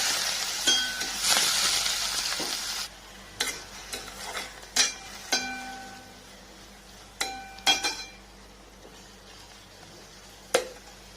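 Fenugreek leaf bhaji cooking in a pan, a soft hiss under intermittent scraping and clinking stir strokes, several sharp spoon knocks spaced irregularly, close and moderately loud.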